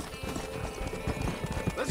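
Horse hooves clip-clop at a steady trot in Red Dead Redemption, soft and moderately close under a faint game ambience.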